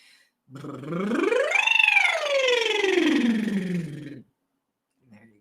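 A single voice glides smoothly upward in pitch, then slides slowly back down in one long sustained tone, imitating a siren.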